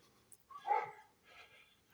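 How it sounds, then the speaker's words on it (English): Neighborhood dogs bark at walkers passing along a residential road. Two faint, short barks come from some distance away. "some of the neighborhood dogs don't particularly like us walking by, as you can hear"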